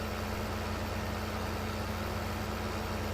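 A tractor engine from Farming Simulator 15 drones at a steady low pitch, loud and unbroken, with a constant mechanical hum and no talking.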